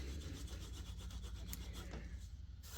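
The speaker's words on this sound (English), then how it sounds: "If you want to varnish an edge, take the handle of one of your tools," A tool handle rubbed briskly along a leather edge to burnish it, a quick repeated back-and-forth friction that sounds close and steady throughout.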